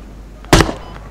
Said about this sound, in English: My rocket keeps going.